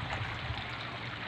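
Water drains from a rooftop fish pond as its level is lowered for cleaning, a steady close rushing trickle and gurgle with no voices.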